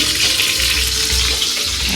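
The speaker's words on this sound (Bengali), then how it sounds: "চিংড়ি মাছ দেখো ভাজা বসিয়ে দিয়েছি" Steady, close sizzling and crackling of shrimp frying in hot oil, continuous throughout with no voices.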